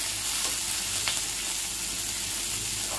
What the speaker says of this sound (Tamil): இந்த மாதிரி ஒன்றை ஒன்றா சேர்த்து நல்லா வதக்கிங்க.